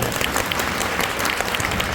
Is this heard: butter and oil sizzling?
no